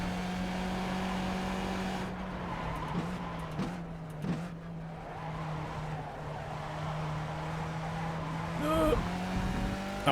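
A race car in the iRacing simulator holds a steady engine drone while braking and cornering, with short tire squeals and a skid near the end, moderately loud and continuous.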